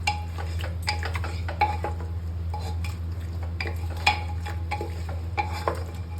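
A spoon stirs mutton curry in a metal pot. Repeated scraping and clinking strokes sound over a soft, steady sizzle, close and clear, with no talk.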